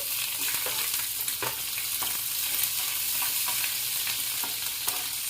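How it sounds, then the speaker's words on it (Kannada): Curry leaves and green chilies sizzle and crackle steadily in hot oil, with scattered sharp pops and occasional stirring scrapes, close and continuous with no voices. "ಕರಿಬೇವು ಚೆನ್ನಾಗಿ ಆಯಿಲಲ್ಲಿ ರೆಡ್ ಆಗಬೇಕು"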